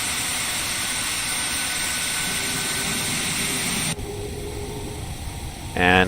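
Boeing 737 Classic engines in a flight simulator game, a steady broadband jet whine and rumble while taxiing, holding level before dropping slightly and ending with a brief tonal chime.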